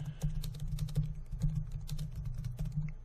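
Typing on a computer keyboard while entering plain text for an eBook: a steady, close patter of soft key clicks in quick irregular bursts, over a low background hum, with no talk.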